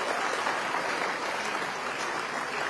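A seated audience at a university convocation claps for the gold medal winners, a steady dense round of applause filling the whole stretch at even loudness.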